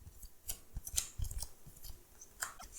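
Shuffling of a 40-card deck for a tabletop card game, giving a quiet run of soft crisp riffles and flicks spread through the short stretch, with no voices.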